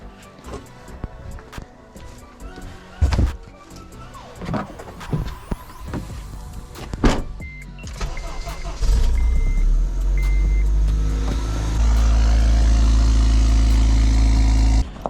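Acura RDX door closing, then the engine starting and the SUV driving off: scattered clunks and handling noises give way to a loud, steady engine drone that builds as the car pulls away, close by.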